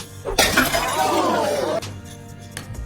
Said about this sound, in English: Then he hurls the yo-yo and smashes a soda bottle.